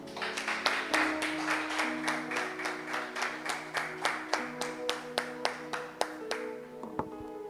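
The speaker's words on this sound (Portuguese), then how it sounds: "Vamos aplaudir ao nosso Deus" A church congregation claps together in rhythm after a call to applaud God, steady sharp hand claps repeating about twice a second, loud and close, fading out at the end.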